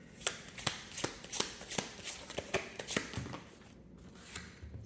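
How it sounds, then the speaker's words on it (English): Tarot cards being reshuffled by hand: a close, crisp series of riffling snaps and soft card slaps in an uneven rhythm, then a brief pause, with no talking. "I dropped another card. Let's just reshuffle here."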